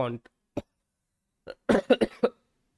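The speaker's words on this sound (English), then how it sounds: "sorry, I have a cough." A short burst of harsh coughs, one or two brief ones followed by a quick cluster of three or four, close and loud.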